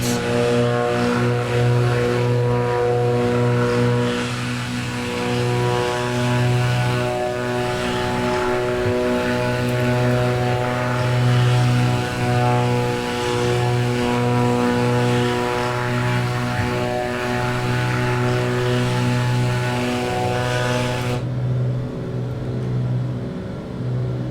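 Black Square Piston Duke propeller aircraft in a flight simulator game, a loud steady piston-engine drone with strong harmonic hum throughout, cutting off abruptly near the end.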